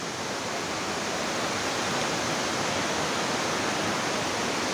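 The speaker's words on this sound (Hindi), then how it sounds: "ये हमारे इधर का बहुत ही फेमस है वाटरफॉल" Dense steady roar of the Digambar waterfall, a broadband rush of falling water that stays constant and loud throughout with no voices.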